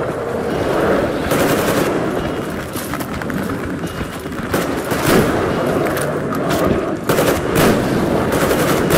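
Sustained machine gun fire at mutants in the video game Metro Exodus, loud rapid bursts running continuously with hardly a break.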